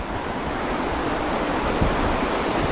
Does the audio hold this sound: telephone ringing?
no